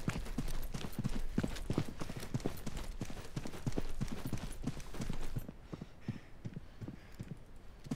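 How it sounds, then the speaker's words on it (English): Footsteps in the Deadside survival video game form a rapid, even run of hard thudding steps. They are loud at first and then drop to a quieter, more distant patter partway through. "And these footsteps are so hard to read."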